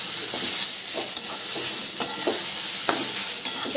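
Spice masala for a papaya and egg korma sizzles steadily in a pan, with repeated scraping stirs breaking through the close, continuous frying hiss.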